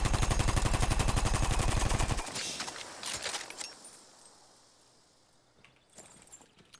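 Parabellum machine gun firing in Battlefield 1, a loud rapid burst of evenly spaced shots lasting about two seconds, then fading echoes and scattered distant clatter.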